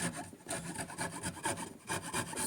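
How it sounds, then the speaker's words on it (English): A hand rasp files in short, rhythmic strokes across the wood of a vintage Peavey T-15 guitar body. The rough scraping is close and loud, repeating about twice a second, with no voices. "I have this rasp. I'm sure this is supposed to attach to a tool, but I don't have that."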